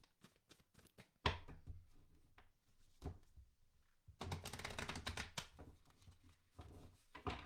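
Tarot cards are shuffled and handled nearby in quick clattering bursts: sparse taps and flicks at first, then a denser riffling run midway, with quiet gaps between.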